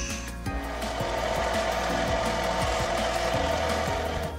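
A wooden piece is smoothed by hand, a continuous close rubbing and scraping with a regular back-and-forth rhythm, steady and fairly loud.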